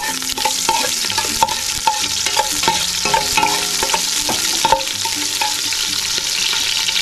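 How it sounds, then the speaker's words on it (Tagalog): Chopped onions sauté in a hot pan for chicken tinola, with a steady, dense sizzle and frequent clattering stirs of a utensil scraping the pan throughout. "Mag-isa na tayo ng sibuyas."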